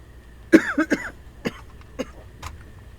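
A few harsh coughs close to the mic, a quick burst followed by a couple of softer, spaced-out coughs.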